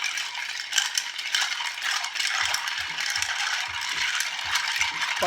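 Continuous jingling clatter of ice being stirred in a cocktail mixing glass, steady and close, with faint low knocks as the spoon moves; no talking.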